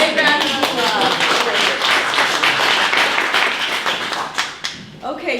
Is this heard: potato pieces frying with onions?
no